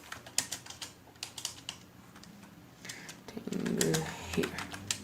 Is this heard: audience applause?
no